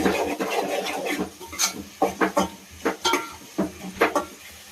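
Ginger-garlic paste being stirred into a tuvar (pigeon pea) mixture in a pan, a spoon scraping and clacking against the metal in repeated short strokes with a faint sizzle underneath, close and fairly clear.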